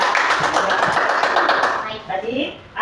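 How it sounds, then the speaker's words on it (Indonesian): Classroom applause from a group of students, a dense continuous patter of clapping for about two seconds that thins out near the end, with scattered voices mixed in. "kasih tepuk tangan"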